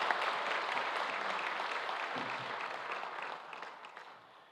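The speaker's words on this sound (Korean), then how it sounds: "박수로 환영하겠습니다." Church congregation clapping during a Korean Sunday worship service, a soft, diffuse wash of many hands applauding in a large room, fading gradually over a few seconds with no talk over it.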